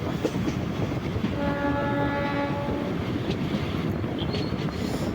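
A MEMU train pulls into Kollam Junction station at night at the end of a run from Punalur, its horn sounding a sustained tone mid-clip over the constant rumble and rattle of the rail cars.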